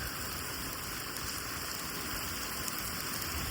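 Heavy rain falling steadily at night during a thunderstorm with strong winds, a dense, even hiss of drops drumming on surfaces, close and continuous with no voices.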